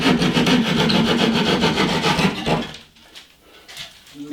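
Handsaw cutting through drywall in a wall repair around a golf-ball-sized hole: rapid rhythmic rasping strokes, close and loud for over two seconds, then stopping into quiet handling noise.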